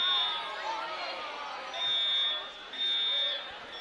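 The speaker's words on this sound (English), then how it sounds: "We got a fire alarm going off." A high electronic fire alarm buzzes in repeated pulses through a high school gym during a wrestling match, loud and insistent over a murmuring crowd.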